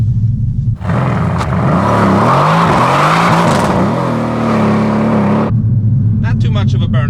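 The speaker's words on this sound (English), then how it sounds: "I'm going to do a little burnout and try to get the tires a lot stickier" A 503 hp Mercedes C63 AMG does a short tire burnout, its engine roaring loud and steady for several seconds with rising and falling revs, then dropping back to a rumbling idle.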